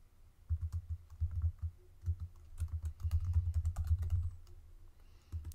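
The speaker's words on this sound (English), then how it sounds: "then I'm going to type in my email address" An email address is typed on a computer keyboard in quiet, rapid clusters of key clicks, with brief pauses between bursts and no talking.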